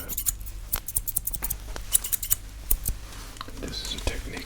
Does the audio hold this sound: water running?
no